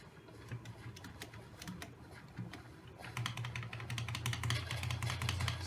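An Offbeat Ripjaws Alpha wireless gaming mouse is butterfly-clicked in rapid bursts, a dense run of small sharp clicks up close that grows busier and louder in the second half, with no talking.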